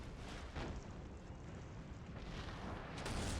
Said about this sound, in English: They're getting absolutely blasted by those cannons.